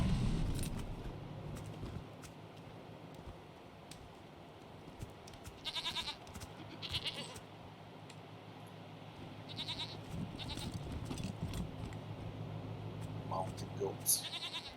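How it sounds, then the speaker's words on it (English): Mountain goats in the video game Wasteland 3 bleat in short bursts over a steady low game ambience, with a few brief bleats scattered through the background and a voice speaking at the start. "Mountain goats."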